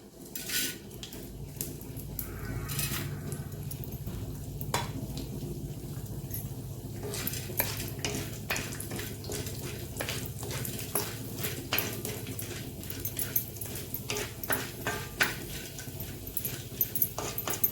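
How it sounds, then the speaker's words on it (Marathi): Chana dal is roasted in oil in an iron pan, with steady soft sizzling and repeated sharp metallic scrapes and clinks of a spatula stirring against the pan, close up and without speech. "प्रथम आपण ही हरभरा डाळ घालत आहे।"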